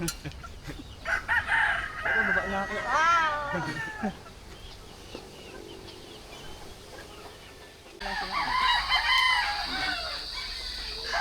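A rooster crows loudly nearby while chickens cluck around it, with quieter stretches of background noise between the calls.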